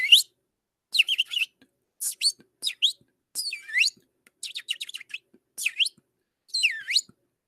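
A small bird sings alone in bright, sharp chirps and short trilling phrases, about ten bursts spaced by brief silences, close and clear against a quiet background.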